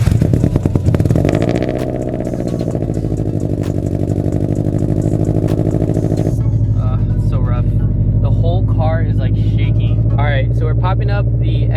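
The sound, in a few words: supercharged Toyota FRS engine starting and running rough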